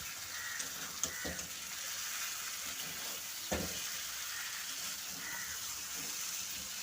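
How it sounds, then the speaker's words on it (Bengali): Spiced masala for a vegetarian aloo dum sautéing in a pan, a steady soft sizzle throughout with a few faint spoon scrapes and clinks, fairly quiet and without talk. "তো এবারে একটু ভালো করে কষে নেব"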